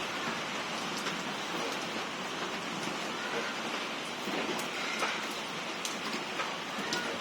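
Heavy rain pours down steadily in Wang Noi, Ayutthaya, Thailand, a dense, continuous hiss with scattered drops pattering nearby throughout.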